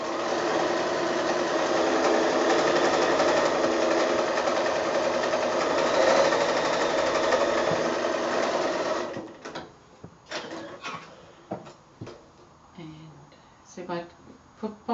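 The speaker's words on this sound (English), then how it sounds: "I just start maybe 1/4 inch down with my sewing so that the little thread ends don't hang out the top" A sewing machine runs a seam on a fat quarter gift bag with a steady, rapid hum for about nine seconds, then stops, followed by scattered clicks and fabric handling.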